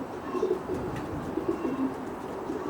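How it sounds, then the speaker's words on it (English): Racing pigeons coo over and over inside a smart young bird loft about 12 feet long near Portsmouth, a soft, steady murmur of low throaty calls close by with no talk. "This is Frank's very smart young bird loft"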